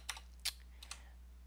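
Keys tapped on a programmable computer keyboard: a few sparse, quiet clicks spread unevenly over a low electrical hum, with no talking.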